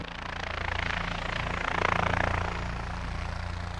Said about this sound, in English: When that copter flies over, you know it. It's real loud.